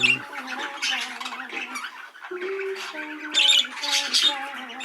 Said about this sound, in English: These are all the hen birds that I've separated out.